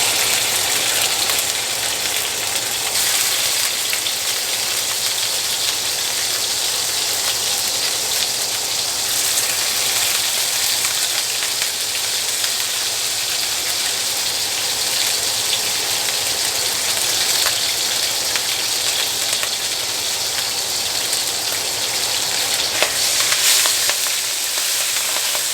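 Trimmed beef fat frying in a pan, a steady, dense sizzle and crackle like rain that holds at an even level throughout with no talking.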